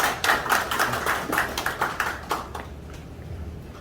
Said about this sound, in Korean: 원장님을 힘찬 박수로 환영해 주시면 감사하겠습니다